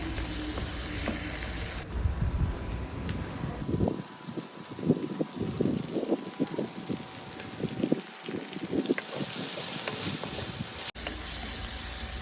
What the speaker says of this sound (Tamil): வேக வச்ச மட்டனை ஊற்றி ஒரு கிண்டு விட்டுக்கலாம்.